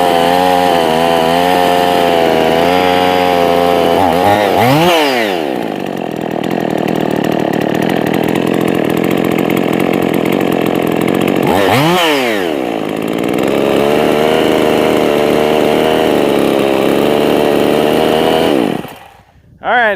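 Husqvarna 55 chainsaw with a Chinese cylinder kit, running warm and loud up close, holding a high buzzing rev broken by two quick throttle dips and surges before the engine dies near the end.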